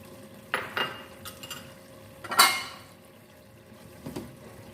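A spoon stirs fresh cream into a white chickpea curry in a pot, producing a few soft scattered scrapes and clinks against the metal, quiet and close with gaps between strokes.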